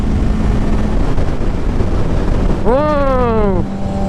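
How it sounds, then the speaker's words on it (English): A motorcycle passes on a city street, its engine note rising and then dropping quickly over about a second, heard above steady road and wind noise from inside a moving car. "Motorcycles are fun."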